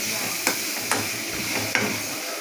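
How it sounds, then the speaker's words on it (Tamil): Ingredients sautéed in a pan give a continuous sizzle with a few sharp spoon knocks against the metal at irregular intervals, close by and moderately loud, no voices. "நல்லா வதக்கிறீங்க ஃப்ரெண்ட்ஸ்"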